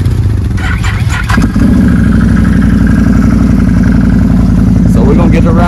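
A Can-Am Renegade ATV engine turns over and catches, then settles into a loud, steady idle close by with a rough throbbing rumble, at a muddy lake bottom.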